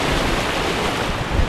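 Rushing river waves on the Middle Ocoee, a Class III whitewater run, make a close, steady churning roar around a kayak.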